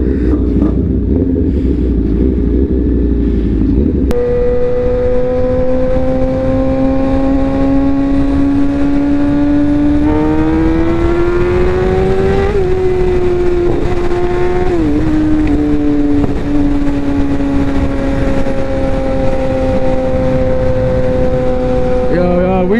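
A Suzuki GSX-R 750 sport motorcycle being ridden, its engine droning steadily and loudly under wind noise, pitch rising and falling through shifts and throttle changes.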